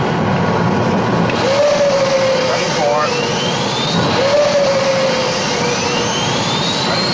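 Jet engines spool up with a loud, steady roar, rising whining tones sweeping upward over the continuous rumble.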